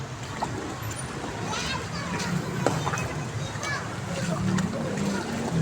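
Children's voices and shouts mix with continuous splashing in a flooded street, lively and fairly close, over a constant watery wash.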